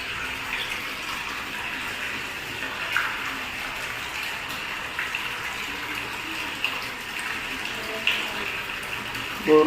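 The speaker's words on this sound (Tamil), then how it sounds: "போரில் தண்ணி வந்துட்டு இருக்குது." Water gushing from a borewell at a housing unit on the Tiruppur–Kangeyam main road, a steady, strong splashing flow, close and fairly loud, with a few brief bumps near the end.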